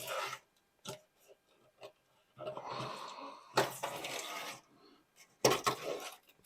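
A razor blade trims material folded over the edge of a car fender during a fire-damage repair, giving short, close rasping cuts in separate bursts with quiet gaps between them.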